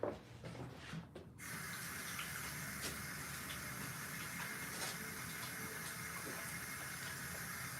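A tap runs steadily for washing, giving a continuous close splash and gush after a brief rustle at the start.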